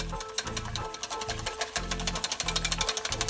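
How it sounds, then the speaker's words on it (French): Eggs are whisked vigorously by hand in a bowl over a bain-marie, a fast regular rhythm of metallic clicking and scraping strokes, close and continuous throughout. "ne vous arrêtez pas de fouetter, parce qu'en fait si vous arrêtez de fouetter, l'appareil, donc les œufs vont commencer à cuire"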